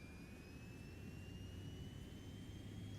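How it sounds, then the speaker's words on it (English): Jet engine of an Eclipse 550 spooling up in the X-Plane 11 flight simulator, a steady low roar with rising whine tones, continuous and fairly quiet throughout. "we got the engine spooling up here"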